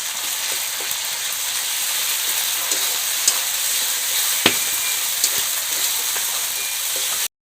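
Ground spice pastes of cumin, white mustard and chili sizzling in a pan for a Bengali-style fish curry, a loud, even, rain-like crackle with a few faint ticks, running without pause until an abrupt stop.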